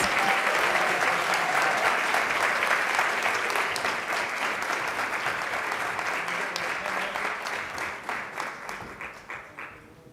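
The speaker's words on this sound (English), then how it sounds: "Please give our Boys and Girls Club sponsors a round of applause." A board of trustees meeting audience gives a round of applause for Boys and Girls Club sponsors, dense clapping that starts strong and gradually tapers into scattered claps over ten seconds.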